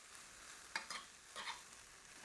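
Ingredients being stirred in a pan on the stove for a spring brunch recipe, with a few soft scraping strokes over a faint sizzle; quiet and close, with no talking.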